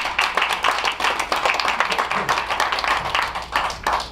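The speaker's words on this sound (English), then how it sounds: "please, round of applause for Mayor Honorable Robert White" An audience at a civic event claps continuously for a mayor. The applause is dense and fairly loud, with steady rapid hand claps and no voices heard.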